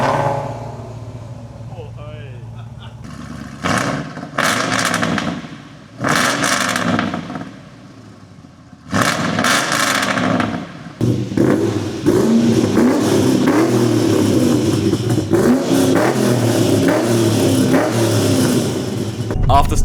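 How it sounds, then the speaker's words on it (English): HSV and FPV performance cars rev hard in a collection garage, with loud engine bursts and repeated throttle blips building into a sustained roar while people talk nearby. "After starting the cars up and giving them a good rev"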